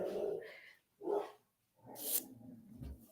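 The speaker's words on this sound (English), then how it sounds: "He's always barking at people." A dog gives three short, soft barks with pauses between them, fairly quiet and alone without speech.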